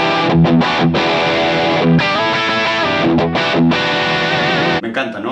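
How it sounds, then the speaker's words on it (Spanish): Electric guitar played through a TWA SH9 Scott Henderson distortion pedal set to a thick overdrive tone, with sustained chords and riffs ringing loud and continuous before stopping abruptly near the end. "ahora es como un sonido overdrive sin llegar a la distorsión, pero es un overdrive bastante sustancioso"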